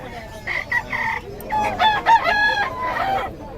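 Roosters crow repeatedly in Bocaue, the calls overlapping with clucks and other fowl nearby, loud and close, with faint voices in the background.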